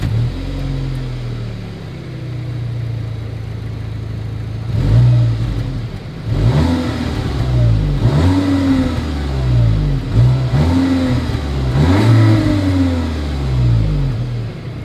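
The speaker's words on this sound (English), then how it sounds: "As always, here is that exhaust clip." Car with a dual exhaust revving at a standstill: a low idle burble, then a series of sharp throttle blips that climb and fall back, repeated five or six times, loud and close.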